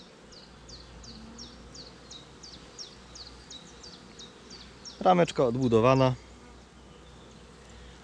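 Honey bees buzz steadily around a brood frame with newly drawn foundation, lifted from a nucleus colony, a soft continuous drone throughout with a person speaking briefly partway through.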